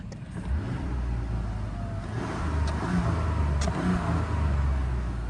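A 2025 Mazda CX-70 Turbo S engine idles and revs up and down close by, a steady mid-pitched rumble with a few swells in throttle and little turbo whistle.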